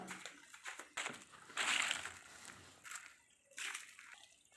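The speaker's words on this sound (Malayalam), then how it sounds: "ചെത്തിക്കൊഴിച്ചു ഇനി പാവലിന് ഒഴിക്കാം" Diluted compost slurry made from kitchen waste poured onto bitter gourd plants in a home garden, with several close splashing, sloshing pours separated by brief pauses.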